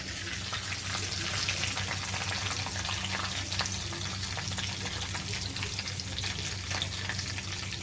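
Curry leaves and chillies frying in a pan with oil, a steady continuous sizzle with crackling pops, close and moderately loud, no voices.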